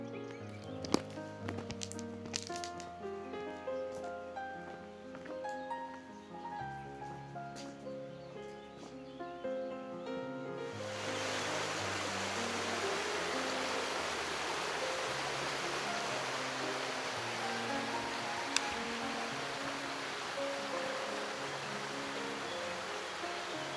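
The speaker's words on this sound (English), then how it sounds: "you can hear the lovely sound of the water rippling through the valleys here" Water ripples steadily through a valley in the Gorges de Trévans, Provence, a constant broadband rush that takes over after a stretch of music and continues alone.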